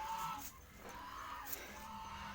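Sasso chickens mixed with native chickens on a farm cluck and call faintly at a distance, soft and brief, against quiet outdoor background noise.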